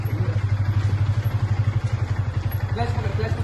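A learner's motorcycle engine throbs in quick, close pulses as the clutch is let out, while people talk over it.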